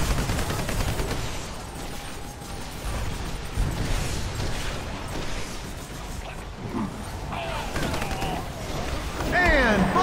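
Dense gunfire from a shooter video game, with fast automatic bursts and mechanical clatter running almost continuously, mixed with game effects and a voice talking over it.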